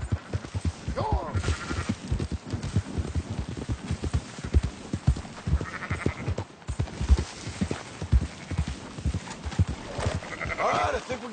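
Sheep being herded in a Western video game bleat repeatedly while a horse's hooves clip-clop in a steady rhythm close by. Several bleats rise above the continuous hoofbeats.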